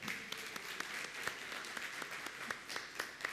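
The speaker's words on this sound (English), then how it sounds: "let's have a huge round of applause for everybody that's made this day possible and are present here" Conference audience applauding, a dense wash of many hands clapping at a moderate distance, steady throughout with scattered sharper claps standing out.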